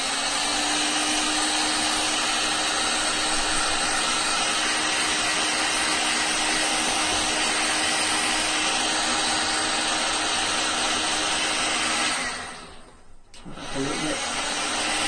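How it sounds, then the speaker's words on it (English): A heat gun shrinks heat-shrink tubing over a braided hi-end mains cable, a steady close blowing roar with a constant motor hum that cuts off briefly near the end and then starts again. "we're going to just use the heat gun to shrink that down"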